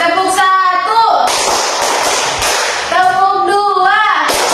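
A group claps hands on a count in a classroom-style session, giving short sharp claps and a noisy patter between stretches of a voice calling the count.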